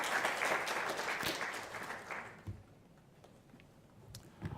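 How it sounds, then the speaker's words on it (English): Audience clapping at the launch of the 2024/2025 national shadow budget, a warm burst of applause that fades away within about two seconds, leaving quiet room tone with a few stray claps. "A clap for James as he comes."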